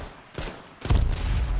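Gunfire in the video game H1Z1, a few sharp shots in quick succession, the later ones heavier with a booming low tail.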